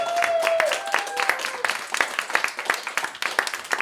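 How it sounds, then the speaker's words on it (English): A studio audience at a comedy panel game show applauds, a dense patter of clapping that rolls on steadily with sharp individual claps standing out, while faint tonal sounds hang over the opening second or so. "Let's give everybody a huge round of applause."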